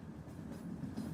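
Train rolling on rails: a faint, steady low rumble with a soft rhythmic clatter of wheels over track joints, heard alone and continuous.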